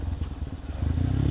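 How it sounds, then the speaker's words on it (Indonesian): Motorcycle engine running close as the rider downshifts into first gear, a rough, stuttering putter with uneven pulses that then settles into a steadier chug. "Kemudian kalian turun gigi ke gigi 1."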